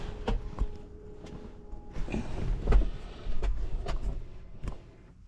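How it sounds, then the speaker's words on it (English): A power liftgate on a 2024 Cadillac LYRIQ with an opening fault closes, a low motor whir running under a series of sharp clicks and knocks, ending in thuds as it latches. "Liftgate's gonna close now. And I hear it closing."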